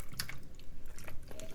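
Potatoes in a creamy sauce are poured into a buttered baking sheet, giving soft wet plops and squishy drips in an uneven run, fairly quiet and close, with no talking.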